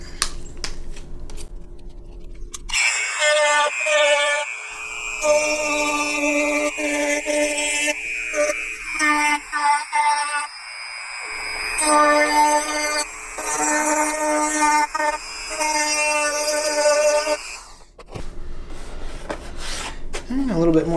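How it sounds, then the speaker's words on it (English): A rotary sanding drum grinding away excess material on a custom speaker pod for a 2013-2018 Nissan Altima front door, with buzzing, rasping bursts that stop and start repeatedly, close and loud. "come back with the sanding drum to clean all that mess up."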